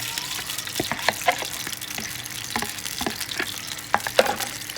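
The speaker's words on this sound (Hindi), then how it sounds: "अब हम इसमें अंडे डाल दें।" Eggs fry in about four tablespoons of hot oil or ghee for egg halwa, giving a steady close crackling sizzle broken by sharp clicks of stirring.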